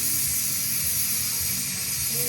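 Cumin and mustard seeds sizzle in hot oil with a steady, dense hiss, close and continuous, without any talk.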